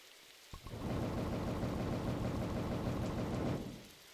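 Rain in the forest survival game 99 Nights in the Forest starts abruptly and pours as a steady, dense hiss for a few seconds before tapering off.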